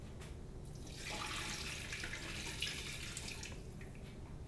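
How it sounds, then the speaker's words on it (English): Lukewarm water for challah dough pours in a steady, moderately quiet stream lasting several seconds, with a splashy hiss and no voices. "We need, at this point, 2 cups of water."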